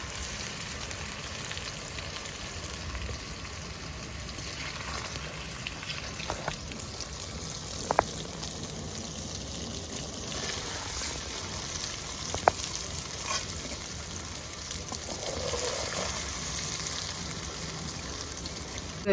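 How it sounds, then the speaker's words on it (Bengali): Paneer cubes fry lightly in hot oil on a rustic village clay stove, giving a steady, close sizzle that runs throughout, with a few sharp clicks and pan knocks. "পনির আমার ভাজা হয়ে গেছে, হালকা করে ভাজলাম, বেশি ভাজিনি।"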